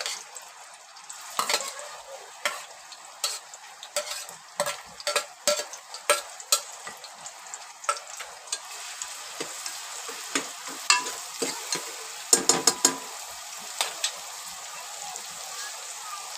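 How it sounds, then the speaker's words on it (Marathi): Finely chopped onion fries in a generous amount of oil for chicken curry, crackling and sizzling up close while a spoon stirs with frequent scraping clicks against the pan. "तर आपण याच्यामध्ये आता घालून घेणार आहे हा बारीक कापलेला एक कांदा"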